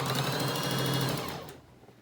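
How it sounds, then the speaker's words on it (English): A sewing machine stitches a half-inch seam joining two pieces of fabric for a filter-pocket face mask, a steady close whirring run that winds down and stops near the end. "on the 2 pieces of fabric, making a seam about 1/2 inch"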